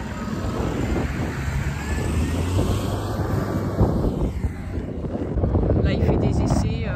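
A 4x4 rally vehicle's engine running with its turbo removed, a rough, rumbling low drone with wind buffeting, heard outdoors under people talking.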